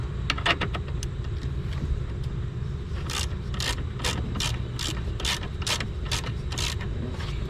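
A 10 mm ratchet tightening a car battery terminal on a Honda Civic, a series of quick close clicking strokes in short bursts over a steady low background hum, with no talking.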